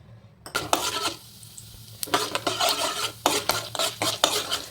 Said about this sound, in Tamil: நல்லா பொன்னிறமாக வறுத்துக்கணும்